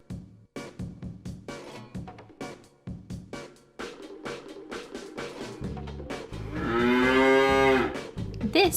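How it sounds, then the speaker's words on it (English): A cow moos in a long, drawn-out low call near the end, preceded by brief plucky musical notes, clear and close with no talking. "This is a cow."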